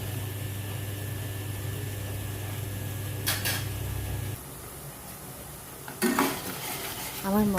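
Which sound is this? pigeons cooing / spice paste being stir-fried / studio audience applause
spice paste being stir-fried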